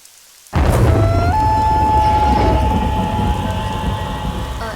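Heavy rain pours steadily in a broadband wash after a sudden start, with a low rumble underneath like distant thunder, loud and continuous with no talking.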